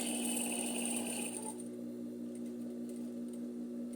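A sewing machine stitching over a previous seam hums steadily with a bright mechanical whir, running continuously and then easing slightly to a lower, quieter motor drone.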